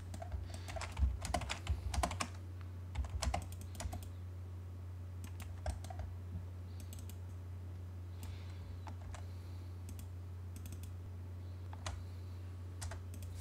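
Commands are typed into AutoCAD on a computer keyboard, giving sparse, light key clicks in small clusters with quiet gaps between them, over a steady low room hum.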